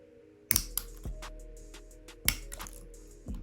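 A straight-edge nail clipper cuts straight down through an acrylic nail, giving two sharp, close snaps about two seconds apart, each followed by small clicks, over a low steady hum.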